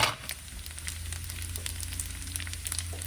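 Garlic, ginger and other aromatics sizzle steadily in an oiled pan with crumbled salted tofu, a continuous close crackle with occasional stirring scrapes and no talking.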